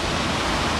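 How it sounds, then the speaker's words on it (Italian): Steady broadband rush of the Valle Tegna waterfall on La Foce river, a tributary of the Lambro, loud and close, continuous with no breaks. "le cascate Valle Tegna, Valle Tegna, del fiume La Foce, La Foce, affluente del fiume Lambro"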